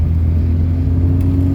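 A 1984 Mitsubishi Lancer SL engine runs loud and close with a steady low rumble and whir, its revs holding or edging upward, with no talking.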